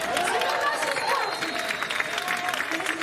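An audience in a cabaret show in Nantes breaks into steady, dense applause that fills the room for the whole few seconds, with no letup.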